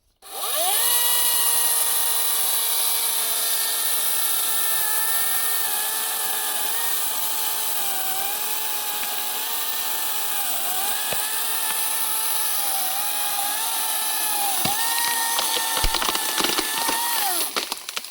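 A Vitals 36 V, 1.5 kW cordless chainsaw cuts through a live fallen willow trunk, its steady high whine holding close and loud for most of the stretch, with crackling and splintering wood toward the end.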